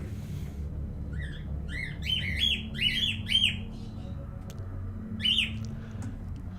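Birds in The Wolf Among Us chirp and squawk in several bursts of sharp, rising calls over a low background hum, fairly close and clear, with no talking.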